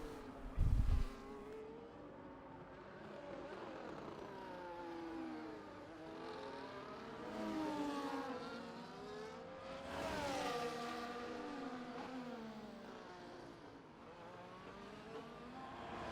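Race car engines from a racing video game at a Portugal circuit whine and rise and fall in pitch as the cars accelerate, shift and pass, with several overlapping engines at moderate volume.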